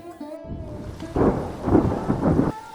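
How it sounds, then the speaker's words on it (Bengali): A deep rumble of thunder rolls through steady pouring rain, loud and close, swelling in waves before cutting off. "রাতে সেই দিন খুব বৃষ্টি হয়।"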